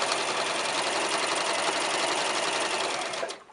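A sewing machine runs steadily while stitching a sharp pleat in shirred fabric, a loud, continuous close-up whir that slows and stops near the end.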